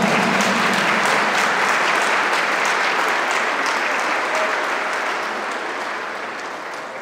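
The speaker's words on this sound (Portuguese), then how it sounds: "Uma salva de palmas." A church congregation applauds during a Sunday Mass after a baptism, with steady, dense clapping from many hands that fades slightly toward the end.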